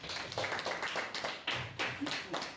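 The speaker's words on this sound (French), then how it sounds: "acclamez pour lui s'il vous plaît" Applause from a church congregation during a sermon, a brisk run of hand claps that sounds fairly close and moderately loud and keeps a steady uneven patter throughout.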